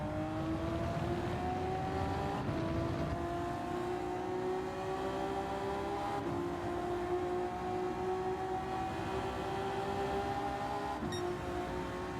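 A race car engine in Gran Turismo 7 holds a steady, loud drone as it runs along a straightaway, its pitch climbing slowly and evenly, with no talk over it.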